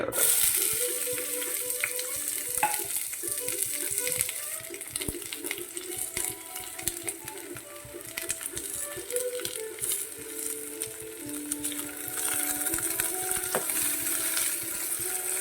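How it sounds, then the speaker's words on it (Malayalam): Sliced onions frying in hot coconut oil in a pan for an egg stew, a steady bright sizzle with occasional stirring clinks, continuous and close. "എണ്ണ ചൂടായതിനു ശേഷം അരിഞ്ഞു വെച്ചിരിക്കുന്ന സവാള"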